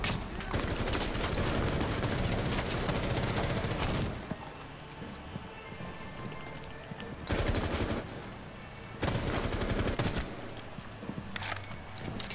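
Dense automatic and single gunfire in Rainbow Six Siege, with loud sustained bursts in the opening seconds, a quieter stretch, then further sharp volleys near the end, all close and without speech.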